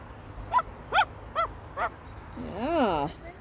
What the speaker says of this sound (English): Here comes a dog.